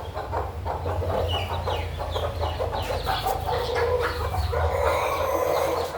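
Several chickens cluck and squawk continuously close by, with busy overlapping calls against a low background hum.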